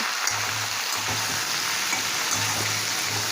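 A steady, crackling sizzle of boiled taro stolons frying in oil with onions continues throughout, with a low intermittent hum underneath.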